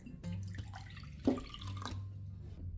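Warm water being poured into a bowl of salt, sugar and yeast for bread dough, a short run of soft splashing and dripping with one brighter splash midway, close and quiet.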